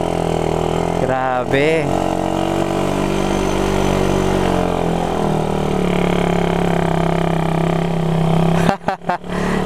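A Raider motorcycle engine drones loudly and steadily as it labors up a very steep road, its pitch rising and falling with the throttle while a rider speaks briefly over it.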